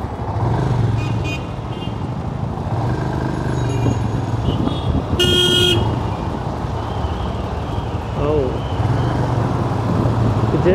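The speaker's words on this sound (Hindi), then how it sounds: "जैसा कि आप देख सकते हैं कितनी ट्रैफिक होती है यहाँ पे" Busy city road traffic rumbles steadily with engines of cars and motorbikes passing close by, punctuated by several short horn toots and one sharper blast midway.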